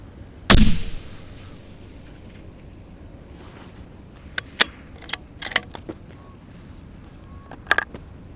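A single sharp, loud rifle shot from a 6.5 SAUM loaded with H1000 powder and Berger 156 bullets cracks close by and decays, followed by several fainter metallic clicks and clatters.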